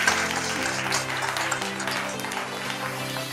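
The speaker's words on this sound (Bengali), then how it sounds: "তাহলে জোরে হাততালি হয়ে যাক।" An audience claps loudly at a Holi special family show held in a Senco Gold store, producing a steady, dense wash of applause over background music for the whole stretch.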